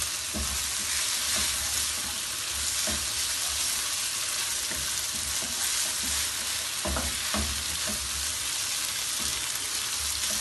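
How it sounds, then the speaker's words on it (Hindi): Capsicum stir-fried and stirred in a hot pan for vegetable chicken chowmein, with a steady close sizzle and repeated scraping knocks of the spatula throughout. "शिमला डालकर इसे थोड़ा अच्छी तरह हिलाना है। हमने शिमला को भी थोड़ा भूनना है।"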